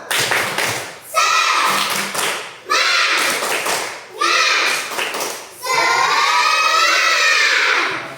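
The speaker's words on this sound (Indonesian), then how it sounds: "Kita mau bertepuk tangan." Classroom pupils do a rhythmic clap cheer: four loud bursts of synchronized hand claps alternate with children chanting together, with a final longer shouted phrase, all close and energetic.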